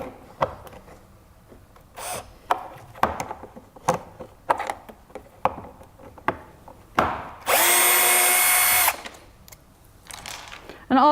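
A small power screwdriver loosens the screws on a device's casing, with short clicks and taps between a steady whirring buzz of about a second.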